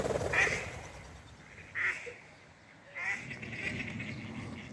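A family of wild ducks quacks outdoors in a few separate bursts of harsh calls, moderately close, with quiet pauses between them.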